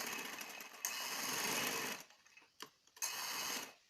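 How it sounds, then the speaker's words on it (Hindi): Sewing machine stitching the shoulder seams of a peplum top, close rapid mechanical whirring in two bursts with a short stuttering pause between, no talking. "अब हम शोल्डर की सिलाई लगाएंगे"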